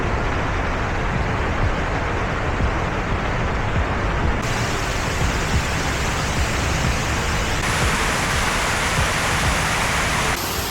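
A large waterfall in Houston sends about 11,000 gallons of water a minute down its face, making a steady, loud, unbroken roar of rushing water that fills the whole stretch with no talking.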